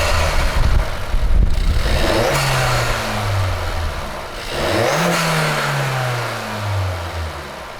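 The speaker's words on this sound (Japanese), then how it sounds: "アクセル踏み込んだ時に吸気音が聞こえるようになります。" A Suzuki Swift Sport engine with the bonnet open gives a loud intake roar during two acceleration runs, each revving up in pitch as the throttle opens, with no talk.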